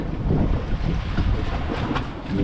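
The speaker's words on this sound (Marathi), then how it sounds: "लाटा पण जाम उठवत आहेत" Rough monsoon sea waves off Mumbai surge and crash in a steady roar, heavy wind buffeting the microphone throughout, with no voices.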